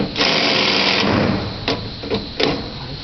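Metal bolts on an Opel GT headlight assembly being tightened with a hand tool, giving a near, fairly loud sustained ratcheting burst followed by three short separate clicks.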